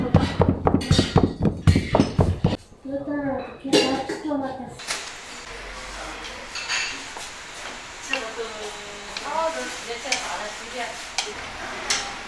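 A cleaver chops through three stacked, flour-dusted sheets of buckwheat noodle dough in Jingbian, Shaanxi, giving a quick run of sharp, evenly spaced knocks. The chopping fades and voices talk over faint kitchen clatter.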